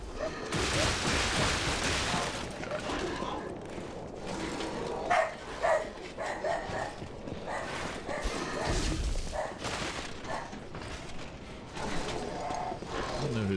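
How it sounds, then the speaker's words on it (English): A dog barks and yips repeatedly nearby in an ongoing noisy stretch, mixed with video game action sounds from Lies of P and a person talking. "I don't know who this other dog is."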